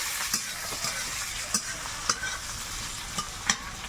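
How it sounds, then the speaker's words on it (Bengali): Whole cumin and coriander seeds fry in hot oil, a bright steady sizzle overlaid by sharp, regular spoon scrapes against the pan, close up with no talking. "গোটা জিরে গোটা ধনে সব তেলের মধ্যে কিন্তু একে একে দিয়ে দিচ্ছি"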